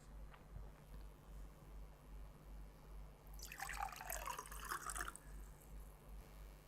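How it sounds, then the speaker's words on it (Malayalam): A colorless liquid is poured into a glass during a color-change magic trick, making a faint, bright splashing trickle for about a second and a half over a quiet room background with a low hum. "ഇതിലെ നിറമില്ലാത്ത ദ്രാവകം ഞാൻ ഈ ഗ്ലാസ്സിലേക്ക് ഒഴിക്കുകയാണ്."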